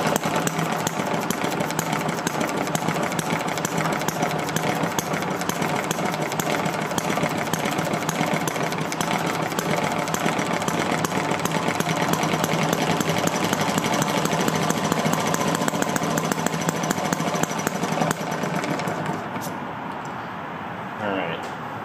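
An ET8 engine starts and runs with a loud, steady rapid chugging and buzz for about eighteen seconds before dropping away toward quiet.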